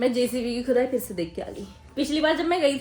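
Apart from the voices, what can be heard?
No distinct noise like a dog, phone or traffic.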